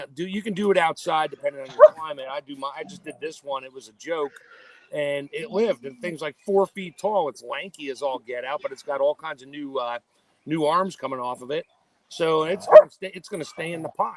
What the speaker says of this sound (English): That's my dog barking, and now everybody else's dog is barking.